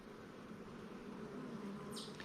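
Honey bees humming at an open hive on a Middle Tennessee bee farm, a faint, steady low drone with no talk over it.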